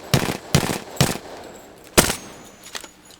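Gunfire in the video game Apex Legends: a few sharp, loud single shots spaced roughly half a second apart, then a pause, another strong shot and fainter follow-up cracks.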